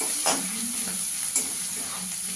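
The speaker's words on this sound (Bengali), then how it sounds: "আদা রসুনটা একটু ভাজা ভাজা হলে আমি পেঁয়াজ কুচিটা দেবো।" Crushed ginger and garlic fry in hot oil in a pan, giving a steady, bright sizzle with a few soft stirring scrapes, close and unaccompanied by speech.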